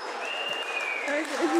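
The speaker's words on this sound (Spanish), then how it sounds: "Give a round of applause, un fuerte aplauso que se escuche" Wedding guests clapping at a reception in a conference center in Chantilly, Virginia: a continuous, moderately loud patter of hands with a thin sustained tone running through it.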